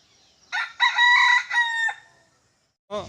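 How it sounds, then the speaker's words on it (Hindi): A rooster crows loudly and close by, one long multi-part call, followed after a pause by the start of another cry. "अभी आपने जो मुर्गा बाग देते हुए देखा कि मुर्गा बाग दिया"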